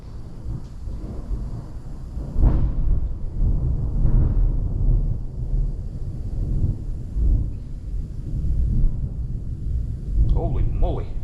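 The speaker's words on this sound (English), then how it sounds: "we've got a bit of a thunderstorm going on right now" Thunderstorm rolls outside a workshop during a Ford F250 restoration, with deep rumbling thunder swelling and fading across the whole stretch, steady low roar and a few louder peaks, speech mixed in.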